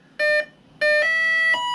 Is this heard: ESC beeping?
yes